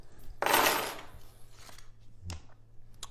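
A bunch of Kwikset house keys is handled, giving a loud metallic jingling rustle near the start followed by a few fainter clinks and taps, with no talking.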